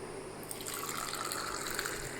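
Milk poured back and forth between vessels in a home kitchen to cool it, a continuous splashing liquid stream, steady and fairly close, with no talking.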